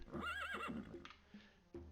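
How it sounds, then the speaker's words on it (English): A horse in The Elder Scrolls II: Daggerfall gives a single close, high whinny that trembles and then fades, followed by a few soft clip-clop hoof sounds. "Hop on our horse again."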